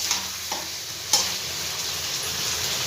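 Cumin and ginger paste sizzles in a pan while being stirred for a rohu fish curry, a steady close frying hiss punctuated by a few soft scraping stirs, with no voices.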